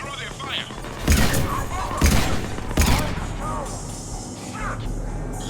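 Gunfire in Mass Effect 3 crackles through a battle, with several heavy shot impacts standing out over ongoing combat noise while voices talk throughout.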